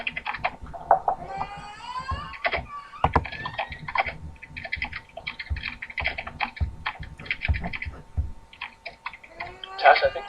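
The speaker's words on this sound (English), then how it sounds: "Oh, then why am I typing?" Computer keyboard typing during an online interview, irregular bursts of close key clicks mixed with talking voices and a few sharper taps.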